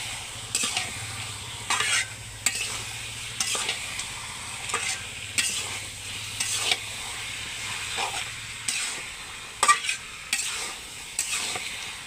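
Meat frying in a pan while being stirred, a steady sizzle broken by repeated scraping strokes of a spoon every second or so, close and fairly loud, with a low hum underneath for most of the stretch.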